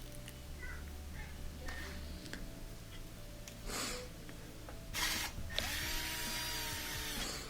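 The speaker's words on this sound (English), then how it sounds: "I'm spinning the shaft using my drill, kind of work that stuff in." A power drill spins the freshly greased shaft of an LG dishwasher motor, giving a steady mechanical whir with rattling, ticking bearing noise and a few louder bursts near the end, close and alone.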